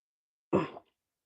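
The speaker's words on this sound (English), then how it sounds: "coughing fit" A single short, rough cough, close and fairly loud, bursting out of silence and cutting off quickly.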